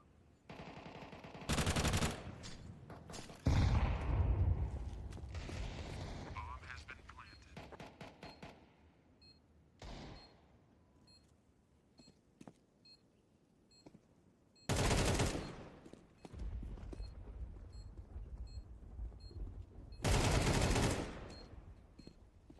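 Gunfire in a competitive Counter-Strike 2 match, including a Mac-10 submachine gun at close range: several loud, separate bursts of rapid automatic fire with quieter gaps of scattered shots and game noise between them.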